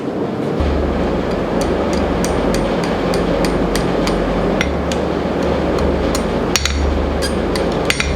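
A blacksmith hammers a small rat tail scroll on a forged marking knife, a steady run of sharp metallic strikes on hot steel ringing out loud and near over a constant forge blower roar, with no talk.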